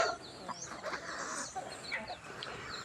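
Several chickens cluck and squawk close by in short, overlapping bursts, a busy temple-yard chatter with no one speaking, at Wat Pong Chai in Chae Hom, Lampang, Thailand.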